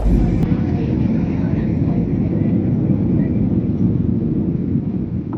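Steady, loud airliner cabin roar on a flight from Frankfurt to Oslo. A dense, even engine and airflow rumble fills the whole stretch without a break.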